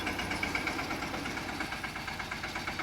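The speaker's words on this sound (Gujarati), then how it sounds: "હવે તુવેર ભરાઈ ગઈ ટ્રેક્ટરમાં અને ટ્રેક્ટર જોવો જાય છે" Tractor hauling a load of pigeon peas pulls away toward the market yard, its engine chugging steadily with a rhythmic knocking throb, moderately loud and continuous with no talk.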